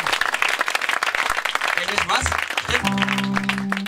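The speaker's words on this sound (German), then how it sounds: "Applaus für Steffen!" A crowd applauds at a live show, a loud burst of clapping with cheering; toward the end an accordion-like tone and voices come in over the fading applause.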